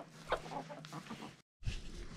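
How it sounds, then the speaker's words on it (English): Chickens cluck and scratch through deep litter bedding in a backyard coop, with a short burst of clucks early on, a brief silent gap, then more close, busy clucking and rustling. "the chickens love digging in it"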